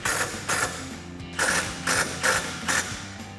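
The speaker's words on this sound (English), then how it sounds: "Now take an 18mm socket and 19mm wrench to tighten those bolts down." An 18mm socket on a ratchet tightens bolts on a RedRock HD tire carrier for a Jeep Wrangler JK tailgate, giving close, crisp bursts of clicking pawl strokes in a steady rhythm of about six pulls.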